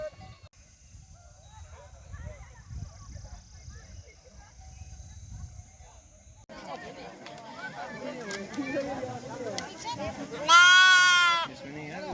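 Sheep bleat during a herders' festival in a Himalayan hill village, with one loud, drawn-out bleat close by near the end. A crowd murmurs and there are rustling farm sounds throughout.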